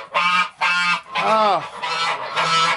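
Farm geese honking loudly and close, five or so harsh repeated honks in quick succession, with a brief exclamation from a person nearby.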